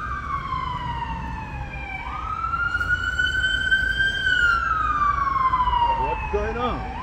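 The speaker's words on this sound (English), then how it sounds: "What's going on? Ambulance." An ambulance siren passes along a city street in Prague, its wailing tone rising and falling in long sweeps, moderately near and growing louder midway before the pitch drops as it moves off over faint traffic hum.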